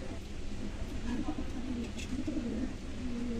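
Pigeons coo steadily and close by in a loft, soft rolling calls repeating throughout with a low background murmur and no one talking.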